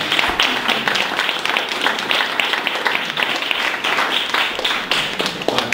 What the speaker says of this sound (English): So let's give Scott a warm round of applause.